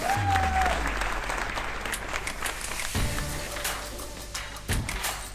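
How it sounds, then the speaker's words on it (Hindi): An audience at a motivational speech event in Jaunpur breaks into loud applause to welcome a speaker, a dense burst of clapping that swells then thins, with a microphone whine at the start. "ऐसे प्रणेता अशोक सर का हम सब लोग जोरदार तालियों से स्वागत करें"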